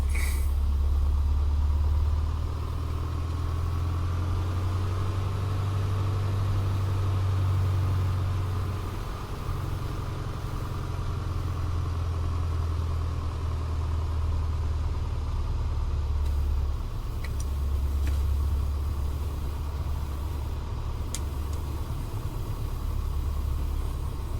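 A Piper PA-38 Tomahawk light aircraft engine idles on the ground in a flight simulator, a steady low droning hum at about 1,000 rpm that holds evenly and alone throughout.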